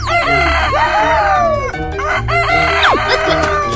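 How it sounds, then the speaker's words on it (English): A chicken crows and clucks loudly and up close, with squawking calls sweeping up and down in quick succession for a few seconds. "Chicken."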